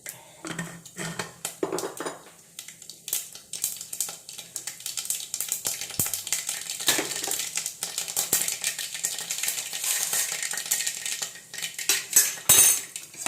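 Metal cooking pot set onto a kitchen stove, a series of clanks and scrapes of metal against metal with short pauses between them, heard close and without talking.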